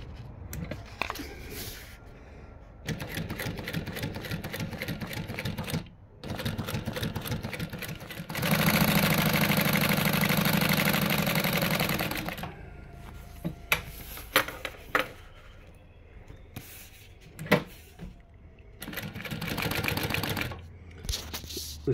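An industrial sewing machine with a built-in direct drive servo motor and automatic bobbin winder stitches in close, rapid bursts, with a longer steady run in the middle, brief pauses and clicks between runs, used on upholstery vinyl.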